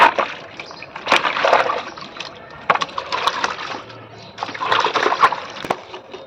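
Whole fish being washed by hand in water, with bursts of splashing and sloshing separated by short pauses and sharp clicks, close and clear.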